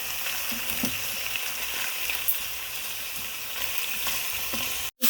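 Sliced pork fries in olive oil in a pan with a steady, close, broadband sizzle throughout and a few soft stirring clinks, with no talking.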